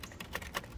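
Keys striking on a 1925 Remington Model 2 typewriter being typed on outdoors, giving three or four crisp, separate clacks in quick, slightly uneven rhythm, close and fairly quiet.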